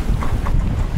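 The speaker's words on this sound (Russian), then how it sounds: "Естественно, задул ветер под тридцак." Strong wind of around thirty knots at sea during an Atlantic crossing buffets the microphone in a low, continuous rumble, with faint rushing water beneath it.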